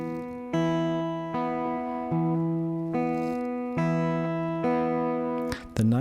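A guitar slowly fingerpicks the repeating arpeggio pattern of a song, each plucked note ringing clearly and close in an even, unhurried rhythm, with a brief string scrape at the end.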